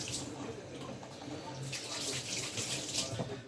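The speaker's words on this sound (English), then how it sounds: "Wash my hands." Hands washed under a running kitchen tap give a steady hiss of flowing water with splashes that vary as the hands move, close by and fairly quiet, with no voices.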